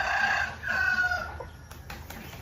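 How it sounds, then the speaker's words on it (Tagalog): A rooster crows loudly nearby, a long drawn-out call over steady background noise, followed by a couple of faint clicks. "Ito nga may manok dire."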